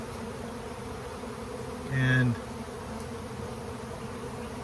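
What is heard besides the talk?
honeybees buzzing during a colony cutout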